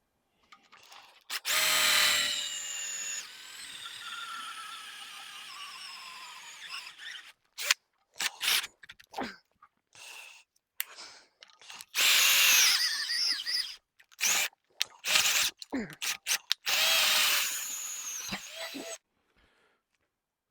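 A power drill fitted with a DeWalt centering pilot point bit bores through wood in repeated bursts, a loud whining squeal on each pass with short pauses between, and no talking.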